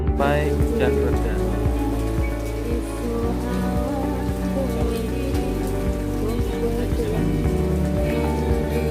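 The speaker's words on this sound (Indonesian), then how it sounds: "Tak disangka hujan pun datang" Heavy rain pours steadily during a mountain trek stop on Gunung Bismo, a dense continuous patter on surfaces that stays loud and close throughout.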